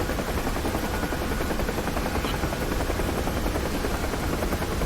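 A UH-1H Huey helicopter in the DCS flight simulator flies over Dubai, its rotor and turbine noise a loud, constant, close drone throughout with no voices.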